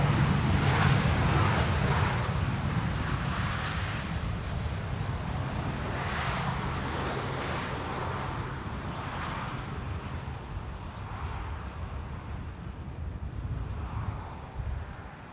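An airliner landing at Amsterdam Schiphol's Polderbaan runway in a crosswind with only idle reverse thrust, heard from a distance as a broad steady jet rumble that slowly fades, with wind buffeting the microphone.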